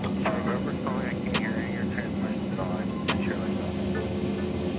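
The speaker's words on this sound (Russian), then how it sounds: "Запуск правому. Right engine start." Right jet engine of an Embraer Phenom 100 business jet spooling up during a cold start, a steady rising whine with hum, while a pilot talks over it close by.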